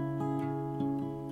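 A third acoustic guitar, panned to the left, plays a short clean phrase of sustained strummed chords with soft attacks at a steady rhythm, heard alone without talk.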